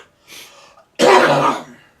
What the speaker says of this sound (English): coughing everywhere